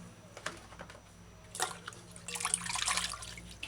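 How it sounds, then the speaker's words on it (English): Water from a tap splashes and drips while vegetables such as hot peppers and ginger are washed clean in vinegar water, soft at first, then a brighter, fuller splashing near the end. "Wash vegetables clean."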